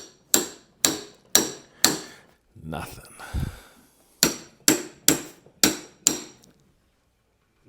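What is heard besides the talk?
tapping with a hammer to knock a part free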